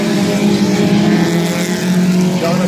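Compact race cars at Midvale Speedway roaring as a pack, a loud continuous engine drone with overlapping revving tones that swell slightly, heard from trackside with no clear talking.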